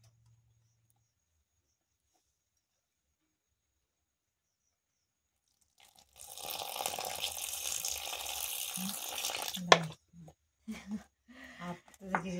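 Water pours steadily into a pot while fularu cooks, a rushing splash lasting about three seconds after a long silence, then breaking off into nearby talk.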